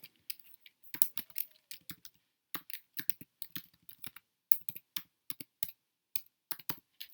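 Bursts of keyboard typing, quick clustered key clicks with short pauses between runs, close and fairly quiet.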